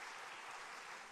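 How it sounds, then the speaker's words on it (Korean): A church congregation briefly applauds an elder who is unwell: a steady, dense wash of many hands clapping at once, fairly quiet and evenly sustained throughout. "우리 박수로 한번 우리 위로 격려하겠습니다"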